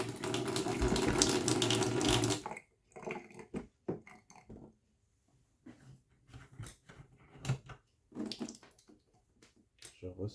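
Kitchen tap running at a weak flow through an instantaneous electric water heater, a hissing water rush for about two seconds, then quieter clatter and intermittent talking.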